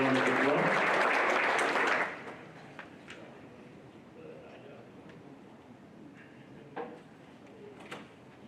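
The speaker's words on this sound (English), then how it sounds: "Let's give her a big round of applause" Loud, full applause from the audience at a school board meeting lasts about two seconds and then cuts off, leaving a quiet room with faint shuffles, knocks and murmurs.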